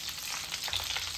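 An egg frying in a pan with urad dal, a brief close, steady crackling sizzle with no voices.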